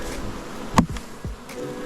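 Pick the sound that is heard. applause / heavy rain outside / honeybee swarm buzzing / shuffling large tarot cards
honeybee swarm buzzing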